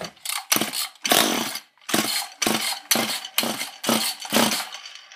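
A chainsaw with a scored piston, cylinder and rings is pulled and revs in roughly eight short, loud bursts, each cutting off abruptly as the engine sputters and dies.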